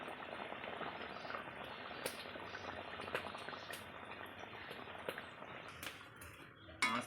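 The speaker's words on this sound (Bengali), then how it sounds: "আমাদের ঝোল তো ফুটে গেছে, এবার মাছটা ছেড়ে দিব" Pangas fish curry broth rolling at a steady boil in a pot as fish pieces go in, a continuous close bubbling and hissing with scattered small splashes and clicks, and no voices.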